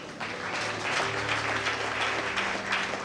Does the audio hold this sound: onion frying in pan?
no